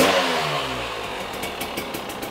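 A rebuilt two-stroke dirt bike engine runs through a heat cycle, a loud, close engine drone that winds down in pitch before a few sharp popping pulses near the end.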